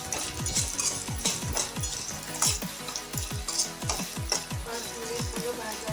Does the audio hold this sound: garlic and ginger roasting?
yes